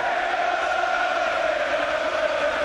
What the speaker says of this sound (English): Listen to the crowd here as well